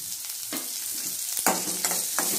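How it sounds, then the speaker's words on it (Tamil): Curry leaves and chopped onions hit hot oil with mustard seeds and urad dal for a banana-stem thoran. A fairly quiet, steady sizzle swells with three or four distinct stirring scrapes, and no one talks. "இப்போ பாருங்க, கருவேப்பிலை போடுறேன், வெங்காயம் கட் பண்ணியிருந்தோம்ல அதையும் போட்டிருக்கேன்."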